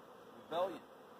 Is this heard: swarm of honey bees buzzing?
yes